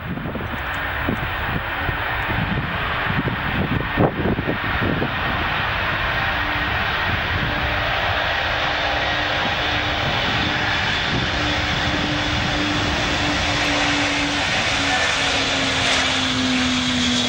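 Antonov AN-225 cargo jet taking off: a loud, sustained roar of its engines fills the whole stretch, steady and broad, with a droning tone that slowly rises as the aircraft gathers speed.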